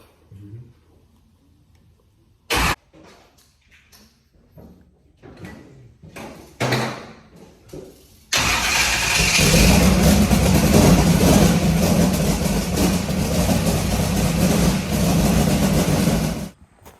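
A car engine fires up and settles into a loud, steady idle after the ignition timing has been set, preceded by a few clunks and knocks, with the running engine filling the last half of the clip.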